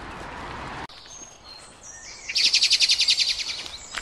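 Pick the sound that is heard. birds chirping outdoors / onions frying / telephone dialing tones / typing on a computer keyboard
birds chirping outdoors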